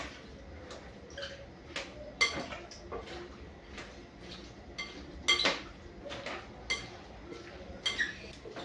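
A utensil tosses carrot-cucumber and pineapple-mango salad dressed with lemon juice in a bowl, giving light, irregular clinks and taps against the bowl with soft rustling between, close and fairly quiet.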